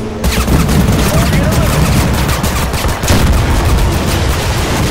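Rapid bursts of gunfire in the first-person shooter Total Conflict: Resistance, loud and dense automatic fire running continuously with booming low end, a faint voice underneath.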